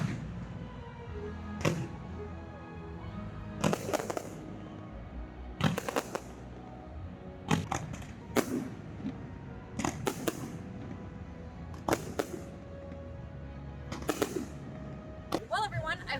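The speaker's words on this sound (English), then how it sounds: "the fireworks were amazing" Fireworks bursting outdoors at SeaWorld's Electric Ocean night event, sharp booms spaced every couple of seconds over a steady crowd murmur, with some talk in the background.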